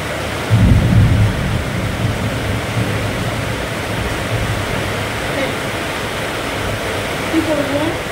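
A thunderstorm with a loud rumble of thunder near the start over a steady wash of heavy rain that continues throughout, with a faint voice speaking lightly beneath it.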